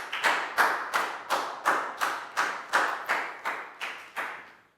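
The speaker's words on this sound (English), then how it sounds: "High five and a big round of applause for Nadia, guys." A primary school class claps together in praise of a pupil, giving roughly a dozen evenly spaced, loud unison claps that slow and fade slightly toward the end, with no talking over them.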